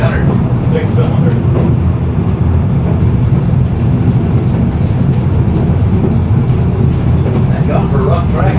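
Rumbling ride aboard a rail car on the Sacramento Valley Railroad, powered by a Ford 300 cubic inch six-cylinder engine on coil springs, a steady loud low roar and rattle throughout with voices chatting faintly over it.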